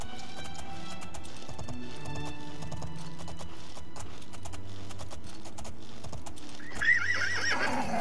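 A horse in the video game Oblivion whinnies amid steady clip-clop hoofbeats, with a faint clatter of keyboard typing underneath, all at a moderate, even level.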